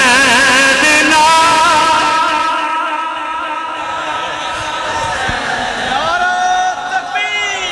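A large crowd at a religious gathering in praise of Imam Hussain chants slogans together, loud sustained voices rising and falling in unison, with a leader's call and the mass response.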